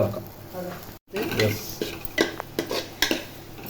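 Spoon stirring macaroni in a pan, with close clinks and scrapes of metal against the pan in an irregular rhythm after a brief pause, over a light sizzle.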